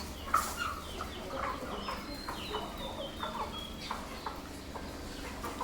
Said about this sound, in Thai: นี่คือไก่ตีนะคะ